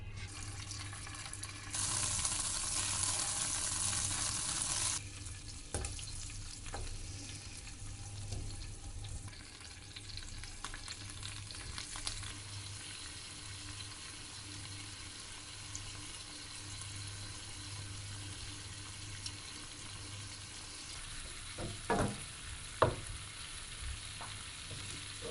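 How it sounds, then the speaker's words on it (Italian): Anchovies, garlic and olive oil frying gently in a pan for a soffritto, a soft steady sizzle with occasional stirring clinks and a brief brighter hiss early on, no voices. "Facciamo un soffritto con olio, aglio, ma soprattutto aggiungiamo subito le acciughe così da farle sciogliere lentamente"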